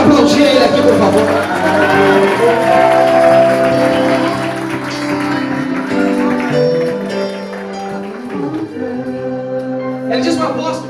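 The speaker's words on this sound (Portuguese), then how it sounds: "Quem pode aplaudir ele aqui," A congregation claps and cheers for a man during a church service, steady applause filling the room over music and voices.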